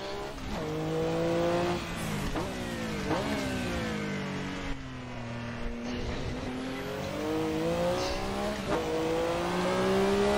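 A Group C race car from the 1985 Le Mans era, driven with a stick shift and no traction control in the Assetto Corsa racing game, revs hard with its engine note climbing, dropping and climbing again through repeated gear changes, loud and up close.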